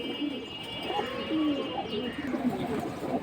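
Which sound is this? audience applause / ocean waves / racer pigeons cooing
racer pigeons cooing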